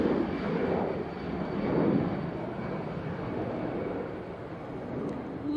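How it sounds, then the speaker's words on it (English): A Lufthansa Airbus A320 jet at Manchester Airport gives a steady, moderately distant engine rumble that swells slightly and then holds even, with no voices. "Lufthansa A320 heading back to Munich."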